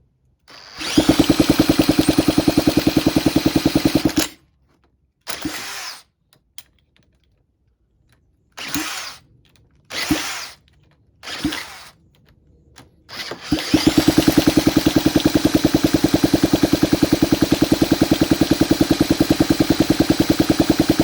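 A 1967 Honda CT90 motorcycle engine cranking repeatedly on a first start attempt, with loud steady rhythmic chugging, several short bursts and pauses between tries, then a long sustained cranking run at the end.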